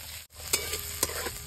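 Onion, capsicum, ginger and garlic sautéing in a pan for paneer bhurji: a steady close sizzle with a few scraping stirs of a spoon.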